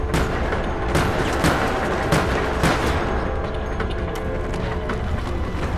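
Rapid gunfire from a Resident Evil: Operation Raccoon City match, several loud sharp shots cracking out in an irregular burst over busy game noise, with no talk.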